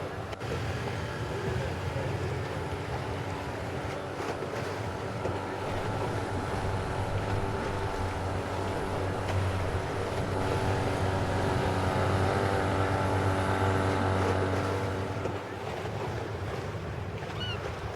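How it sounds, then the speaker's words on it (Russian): A motorboat carries passengers across the Venice lagoon toward Murano, its engine droning steadily beneath rushing water and wind noise, continuous and close throughout the ride. "Уставшие, но довольные, мы сели на катер."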